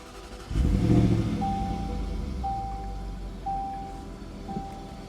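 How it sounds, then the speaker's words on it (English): A 2019 Jaguar F-PACE SVR engine cranks and fires with a sharp burst, then settles into a low, steady idle rumble while faint electronic chimes repeat at regular intervals. "now we're going to start up the F-PACE SVR"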